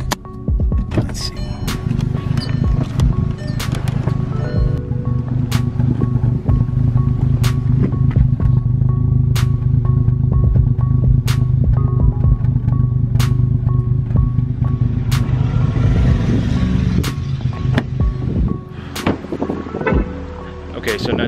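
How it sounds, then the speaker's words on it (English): A car with a check engine light on idles roughly, its exhaust giving a steady, loud low rumble with regular faint ticks throughout and a brief dip near the end. "Car's running rough."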